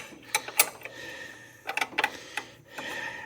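A hand wrench works the lower A-arm bolt on a tow vehicle, giving a few sharp clicking ratchet bursts separated by short quiet pauses, close and distinct.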